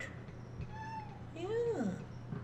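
A house cat meows twice at close range, a short rising-falling cry followed by a longer, louder one, over steady low background hum with no talking.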